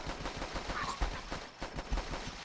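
Rapid bursts of gunfire from a gun in the zombie survival game The Last Stand, with a few louder shots standing out over a steady rattling background, no talking.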